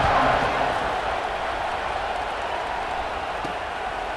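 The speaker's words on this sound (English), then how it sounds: "this crowd is buzzing after that last score" A stadium crowd in the video game College Football 26 keeps up a steady, dense roar and murmur that starts slightly louder and then holds level for about four seconds.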